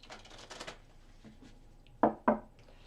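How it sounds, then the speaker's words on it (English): A quick riffle of playing cards, tarot cards for a reading, being shuffled up close, followed after a pause by two sharp taps of the deck settling. "I'm going to shuffle 3 more times."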